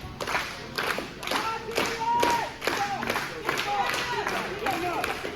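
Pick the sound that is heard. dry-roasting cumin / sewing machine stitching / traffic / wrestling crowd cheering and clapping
wrestling crowd cheering and clapping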